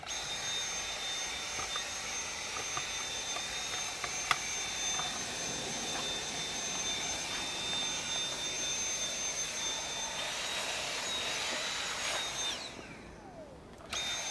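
A car vacuum cleaner runs in turbo mode with a steady, high-pitched whine that holds constant for a long stretch. Near the end the whine winds down and drops away.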